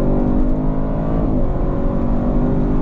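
Audi RS7 Performance with 621 horsepower and 627 pound-feet of torque accelerating hard, its engine a loud, steady continuous roar held close with no let-up.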